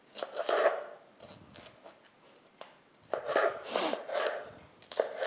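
Several bursts of knife chopping on a cutting board while an ingredient for a noodle salad is cut, close and crisp, with short pauses between groups of strokes.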